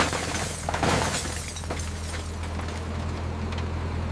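A car collapsing under a road roller during a crush test, heard as a loud burst of shattering and cracking metal and glass near the start, then a sustained low grinding rumble from the roller.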